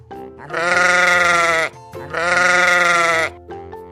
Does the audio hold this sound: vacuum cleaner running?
no